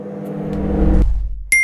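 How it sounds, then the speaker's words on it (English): A microwave oven heating a bowl of water with lemon halves hums with a low steady drone that builds, then cuts off, followed by a sharp high beep at the end. "You can pop in the half and another one into the microwave."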